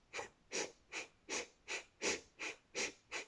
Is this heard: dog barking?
no